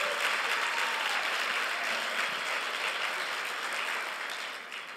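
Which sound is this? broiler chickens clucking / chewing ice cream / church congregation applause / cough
church congregation applause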